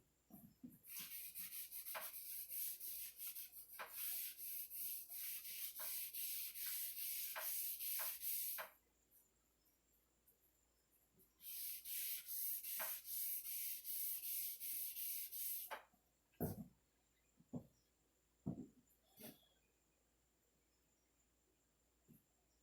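Rag rubbing stain onto a cedar chest sanded with 100-grit paper: two long stretches of close, dry, rasping friction, then several short scattered rubs and knocks, no talk.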